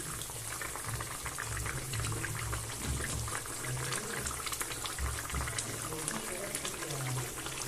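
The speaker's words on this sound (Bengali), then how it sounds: "ঝোলটা ফুটে গেছে" Thin fish curry gravy with potato and brinjal bubbles at a steady boil in a pot, a continuous soft bubbling hiss with faint voice in the background.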